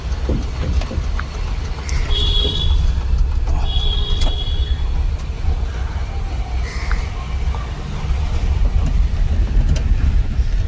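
A car's engine hums steadily through a driving lesson as the car turns, a continuous low rumble with faint traffic and horn-like tones around it.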